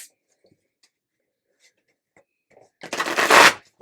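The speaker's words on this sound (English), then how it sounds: "one more little shuffle here, and a riffle" A deck of tarot cards is riffle shuffled once in a short burst of rapid, crisp fluttering, close up. Faint small handling taps come before it in an otherwise quiet room.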